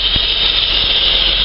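A Holden VS Commodore engine idles roughly with a vacuum leak, a loud, steady close-up drone with a hissy upper edge and a couple of faint low thumps.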